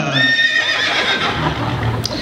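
A horse neighs loudly with a long, wavering whinny played as a sound effect in a stage show, fading into a lower rumbling tail, close and without talk.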